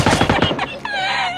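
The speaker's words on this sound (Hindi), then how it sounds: "वो गोली चलाते हैं हम गोली चलाते हैं" Rapid burst of gunfire in the online shooter PUBG Lite, several loud close shots in quick succession followed by a sustained ringing, echoing tail.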